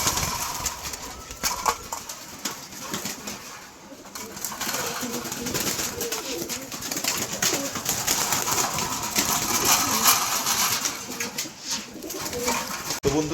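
Caged pet pigeons coo softly while eating feed, with low repeated coos and scattered pecking and rustling, fairly close and continuous, and faint movement noises in the background.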